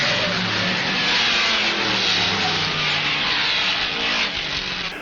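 Big Ford Galaxie V8 touring car racing at Crystal Palace among a pack of Cortinas, a loud, steady engine roar close by that holds throughout with a slight rise and fall.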